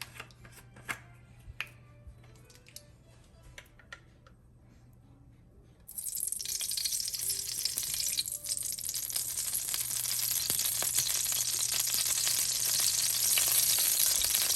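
Vegetable oil in a pan crackles and spits with sharp, scattered pops at first, then swells into a dense, continuous sizzle up close for the rest of the clip.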